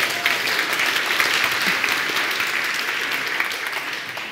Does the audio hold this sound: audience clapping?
yes